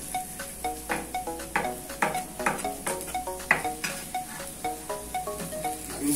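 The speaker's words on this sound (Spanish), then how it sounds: "Vamos a estar dorando" Cooked cassava browns in a pan with a steady sizzle, while a utensil scrapes and taps in a quick, regular stirring rhythm.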